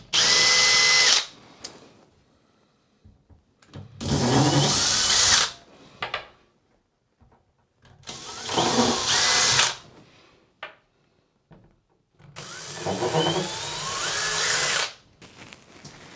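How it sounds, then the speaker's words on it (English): A power drill with a tiny bit bores small pilot holes while a cabinet is being built. Four separate loud bursts of high motor whine are split by short quiet gaps, close by and with no talking. "drill a little pilot hole there with a tiny drill bit"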